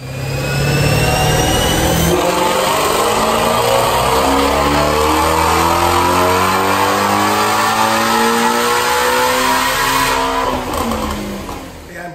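A Ford GT350 with a Whipple Stage 1 supercharger roars through a dyno pull, its engine climbing steadily in pitch with supercharger whine over about ten seconds before easing off, loud and close.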